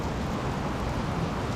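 Light rain patters steadily over a dry cornfield, a dense, even hiss of drops at moderate level with no voices.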